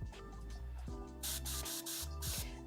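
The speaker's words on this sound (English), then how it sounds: "I need to spray it till the green comes through" Green spray paint hissing from an aerosol can in short bursts, the first faint and then two loud, close sprays over steady background music.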